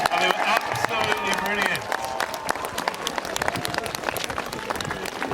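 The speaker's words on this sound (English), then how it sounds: "Can we give the police a huge cheer?" A parade crowd on St George's Day cheers and claps for the police, with dense, steady applause and shouts filling the whole stretch, mixed with some voices.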